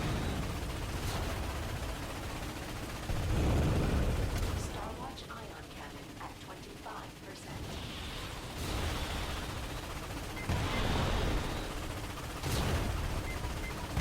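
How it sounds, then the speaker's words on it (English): Missiles and cannon fire during a battle in the Ratchet and Clank remake on the Gaspar and Battalia levels, repeated booming blasts and gunfire bursts at intervals under continuous game noise, with talk at times. "There'll also be missiles that will get shot at you"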